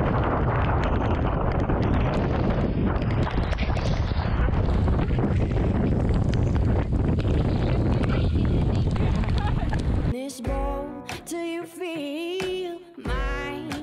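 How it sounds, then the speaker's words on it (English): Strong gale-force wind roars and buffets loudly for about ten seconds around a sailboat at anchor, then someone talks over quieter wind. "We're at anchorage here and it is blowing a gale."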